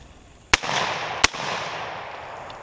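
Two sharp shotgun blasts during a quail hunt with a Vizsla gun dog, spaced under a second apart, each followed by a broad rolling echo across open ground, with no talk between them.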